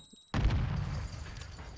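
A grenade explosion in Call of Duty lands as one sudden low boom that rolls into a fading rumble, quiet overall beneath the game mix.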